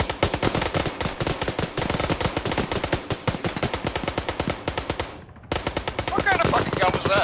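Rapid, sustained automatic gunfire in a video game rattles on for several seconds, breaks off briefly, then resumes just as dense and loud.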